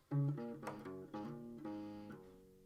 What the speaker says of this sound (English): he plays this little guitar lick that sounds like this